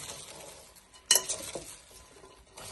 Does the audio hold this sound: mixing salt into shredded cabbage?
yes